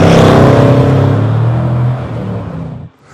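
A 2019 Jaguar F-Pace SVR engine roars at high revs, holds a steady deep drone, then drops off abruptly into near silence at the end.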